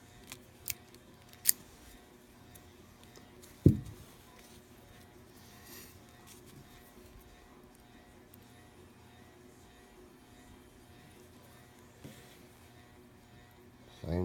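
A commercial Master padlock being picked with a tension wrench: sparse, quiet metallic clicks and ticks over a near-silent background, with one sharper snap partway through and another click near the end.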